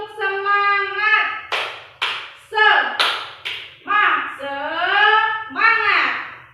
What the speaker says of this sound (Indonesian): Ini misalnya, 2 kali tepuk semangat